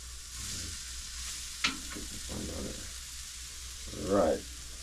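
Food cooking over an open fire in Jamaica, with a steady background hiss, a brief sharp crackle or pop, and some low rustling stirring noises, capped by a louder sizzling burst near the end. There is no talking.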